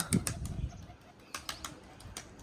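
A burst of wing flapping from pigeons, several quick fluttering beats up close, followed by a few softer flaps as the birds settle.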